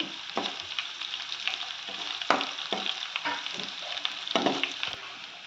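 Ginger-garlic paste fries in a pan for a vegetable chapati roll filling, a close, steady sizzle broken by repeated scraping and knocking of a spatula against the pan, with no talk.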